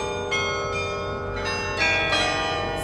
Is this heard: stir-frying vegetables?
no